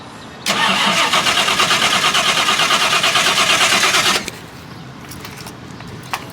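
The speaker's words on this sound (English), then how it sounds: "the ignition on, hit starter" A car engine fitted with four new spark plugs cranks loudly and rhythmically for about four seconds, then cuts off abruptly into quieter background rustles and a couple of small clicks.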